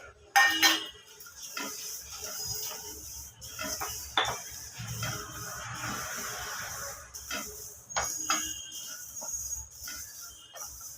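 Black pepper and other whole spices dry roasting in a pan, with dry rattling and scraping as they are stirred. Hissing washes and clinks of utensil on metal rise and fall irregularly, close by, without speech.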